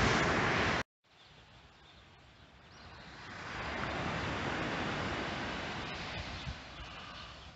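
Calm sea waves washing onto a beach on the Almeria coast in Spain, a steady soft surf roar with gentle swells and some wind, after a brief cut at the start.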